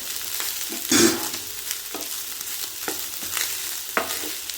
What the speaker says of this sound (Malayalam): എന്നിട്ട് നമുക്ക് നന്നായിട്ടൊന്ന് ഇളക്കി യോജിപ്പിക്കാം.